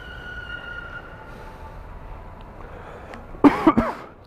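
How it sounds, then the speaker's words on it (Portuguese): A person coughs several times in quick succession inside a Nissan Silvia S15 prepared for drifting, sharp bursts close by after quiet cabin hum. "Desculpa, tosse."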